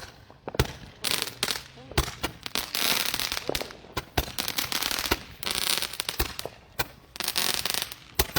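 Rapid bursts of New Year firecrackers and fireworks popping and crackling, dense and irregular, with sharp loud bangs scattered throughout and faint voices underneath.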